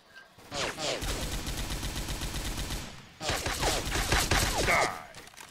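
Rapid automatic fire in a paintball shooter game, two long sustained bursts of close, rattling shots separated by a short gap, with speech-like chatter mixed in around the firing.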